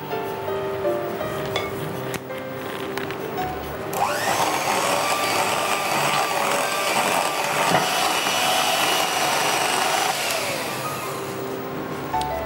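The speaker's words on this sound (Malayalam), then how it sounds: "വിപ്ഡ് ക്രീമും കൂടി ചേർത്ത് വീണ്ടും ഒന്നുകൂടി ഒന്ന് ബീറ്റ്" An electric beater whips cream into mango ice cream mix, a steady close motor whir that starts abruptly, holds evenly for several seconds and then cuts off, with quieter kitchen sounds before and after.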